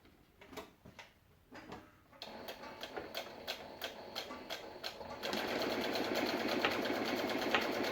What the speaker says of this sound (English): just top stitch all the way along there.